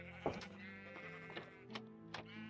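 Sheep in a Minecraft farm let out several short, wavering bleats in quick succession, each a brief nasal call over a faint background hum.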